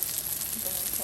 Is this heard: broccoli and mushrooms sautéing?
yes